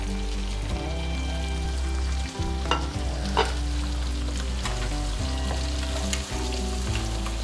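Mixed vegetables stir-fried on a high flame for Chinese masala rice, a loud steady sizzle with tossing and scraping strokes throughout, no talking.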